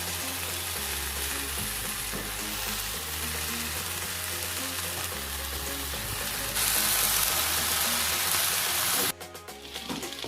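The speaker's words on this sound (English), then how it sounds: "Now I'm gonna mix them right and stir fry them so that everything evens out." Noodles and rice stir-fried in a pan for vegan kimchi fried rice, giving a steady close sizzle with scraping stirs and a low background hum; the frying grows louder and brighter near the end before cutting off.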